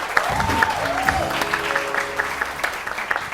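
Studio audience applause on a morning television show, moderate clapping running under a voice and a musical jingle with sustained tones.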